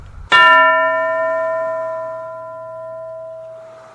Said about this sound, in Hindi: अब जब घंटी बजेगी